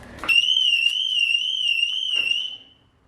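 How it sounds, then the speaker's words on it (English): Alarm on a 2020 Toyota A90 Supra sounds right after the car is locked: a loud, steady warbling electronic tone that holds for about two seconds and then stops, with no talk. "And the alarm goes off."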